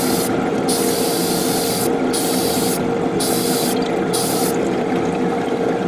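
Steady hiss of an airbrush spraying paint onto a 1/144 Real Grade Freedom Gundam model kit, with brief sputtering gaps where the clogging flow cuts out several times, close and fairly loud.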